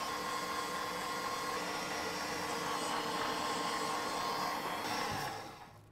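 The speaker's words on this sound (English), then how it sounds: "We're going to whisk it to hard peaks" An electric mixer whisks egg whites and sugar for pavlova toward hard peaks, a loud, steady whirring drone close by that holds constant, then winds down and stops near the end.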